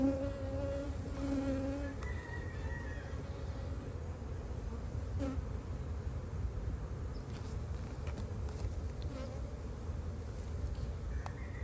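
Honey bees in a spring hive being smoked and worked, their dense steady buzz droning close and continuously throughout, with no talking.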